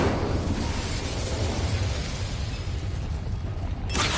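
The Incendio fire spell in Hogwarts Legacy fills the scene with a sustained, loud, roaring whoosh of flame and crackling bursts that holds steady for several seconds.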